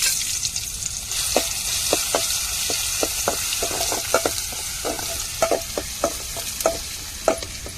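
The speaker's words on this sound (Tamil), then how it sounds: "ரெண்டு கருவேப்பிலை சேர்த்துக்கிடுவோம் அடுத்தது பூண்டு சேர்த்துக்கிடுவோம்" Curry leaves and garlic fry and are stirred in a pan of hot oil for South Indian tempering while roasting brinjal dish is made, a steady close sizzle punctuated by repeated sharp spoon scrapes and taps throughout.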